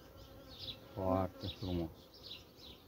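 Honeybees buzzing faintly at a hive of a colony with plenty of brood, a soft continuous hum running under a man's brief spoken remark.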